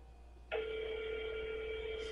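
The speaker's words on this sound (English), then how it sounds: "And it stops ringing after a while." A telephone rings steadily and unanswered in a home, a single continuous electronic ring tone starting half a second in and holding at moderate loudness with no voices.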